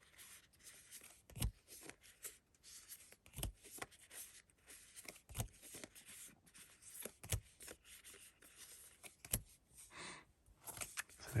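Playing cards in a quiet, close-miked card game are turned over and slid one at a time, giving soft papery flicks and rubs with sharper snaps roughly every two seconds, with no talking.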